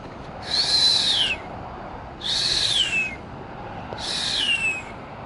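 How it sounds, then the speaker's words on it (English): A gull gives a whistling call three times, each a clear high descending whistle spaced about two seconds apart, outdoors with steady background hiss and no talk. "There you go, a whistling heron gull."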